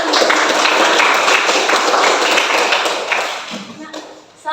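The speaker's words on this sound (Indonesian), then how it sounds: "Kita berikan aplaus." A class claps together in a busy, dense burst of applause that holds steady, then thins and fades toward the end.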